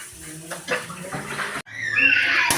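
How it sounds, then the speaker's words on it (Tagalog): Broth drained off boiled beef offal: after a brief clatter, a steady, fairly loud stream of liquid pours and splashes for the last second or so. "Tapos drain natin yan. Kunin natin yung sabaw."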